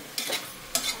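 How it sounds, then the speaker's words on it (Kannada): Biryani being roasted and stirred in a pan: two short, soft scraping stirs with a light sizzle, close by and quiet, separated by a brief pause. "ನೋಡಿ. ರೋಸ್ಟ್ ಮಾಡ್ತೀನಿ."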